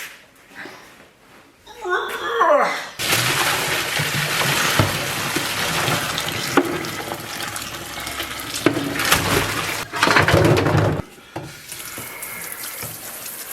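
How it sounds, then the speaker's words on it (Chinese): Cold tap water runs hard into a sink to wash beef hooves, a loud continuous gushing that stops briefly near the end, with someone talking at the start and over the flow. "咱们拿冷水给它洗一下。"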